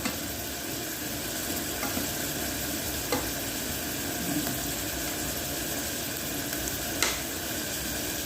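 Steady frying sizzle from a pan of chicken with bagoong being stirred, a constant close hiss with a few faint spoon taps, no voices.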